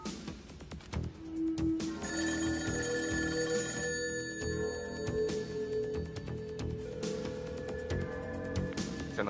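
A telephone keeps ringing without being answered in a French action film scene, its bell tone sustained and repeating over a dense, humming background, loud and unbroken for several seconds.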